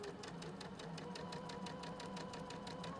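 A sewing machine run by foot pedal stitches a quilt, its needle chattering in a fast, steady rhythm with a low motor hum throughout, close and continuous with no talking.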